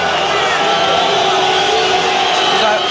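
A boxing arena crowd roars steadily as Joey Gamache walks to the ring before facing Julio Cesar Chavez, a dense, loud wash of cheering voices without pause.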